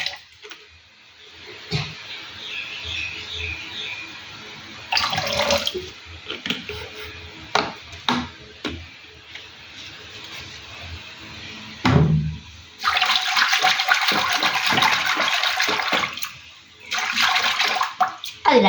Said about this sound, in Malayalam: ഇനി നമുക്ക് ഈ നെത്തോലിയിൽ അല്പം വിനാഗിരി ഒഴിച്ച് കഴുകാം